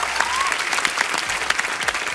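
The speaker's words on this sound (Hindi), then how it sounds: "जोरदार तालियां।" Loud, dense applause from a studio audience at a Hindi comedy talk show taping, steady and continuous throughout with no pauses.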